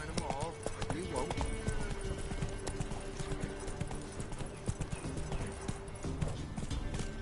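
Roach the horse galloping in The Witcher 3, a quick, steady run of hoofbeats near and clear under game sounds, with a short whinny early on.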